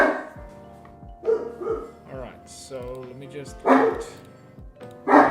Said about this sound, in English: Go down if you want to bark.